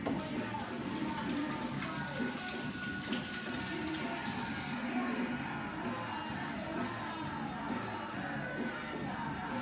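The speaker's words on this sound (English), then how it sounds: "Now I have to wash my hands again" Tap water runs steadily while hands are washed in a home kitchen, a faint hissing splash that cuts off about halfway, leaving quiet room noise.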